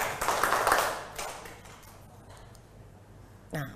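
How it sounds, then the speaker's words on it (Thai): A classroom of students claps hands together in a quick run of several claps at the start, fading into quiet room noise afterward. "ขอเสียงปรบมือ5ครั้งนะคะนักเรียน"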